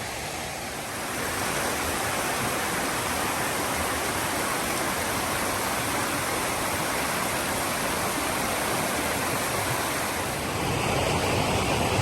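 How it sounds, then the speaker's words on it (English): Loud, steady rush of a swollen, fast-flowing creek near Big Bradley Falls, Saluda, North Carolina, a continuous broadband roar close by with no voices. "this creek is up way more than usual"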